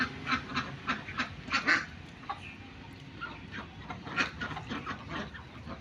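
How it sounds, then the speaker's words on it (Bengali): Ducks in a pond, where they go after snails, quacking repeatedly in bursts at close range, several calls overlapping with a little background noise and no talk. "এখানে হাঁসগুলো এখন নাম পানিতে শামুক খাওয়ার জন্য দেখেন।"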